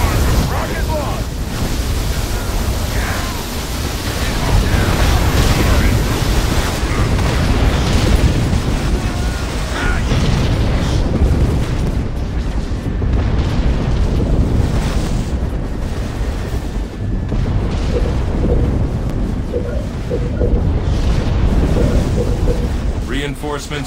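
Rocket launches and explosions in the video game Halo Wars, a loud, continuous roar of booming blasts and rumbling detonations, with indistinct voices faintly mixed into the steady wash of noise.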